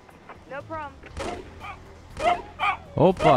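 Aggressive rabid dog barking in the Emergency 4 video game, a series of sharp barks and yips with a whimpering quality, rising in loudness toward the end, with someone talking over parts of it.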